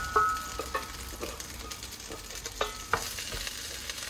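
Beef hitting a pot of golden brown onions, frying with a soft steady sizzle broken by several sharp clicks and scrapes of stirring, close and fairly quiet with no one talking.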